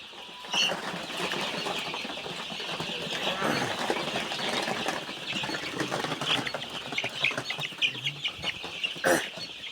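Hybrid Sonali chickens cluck and squawk nearby over a dense, noisy background, with a burst of wing flapping and a few sharper calls toward the end.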